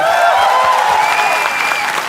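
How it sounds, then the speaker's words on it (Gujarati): A studio audience at a talk show gives loud, dense applause that holds steady for about two seconds, with a faint crowd murmur mixed in. "એકવાર જોરદાર તાળીઓ થઈ જાય"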